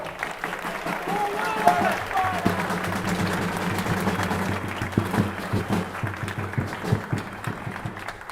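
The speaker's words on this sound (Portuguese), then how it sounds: "uma salva de palmas para o nosso querido Apolo" Applause rises from a crowd at a political speech in Belém, Pará, the clapping rippling under a loud voice and continuing in scattered bursts as talk goes on.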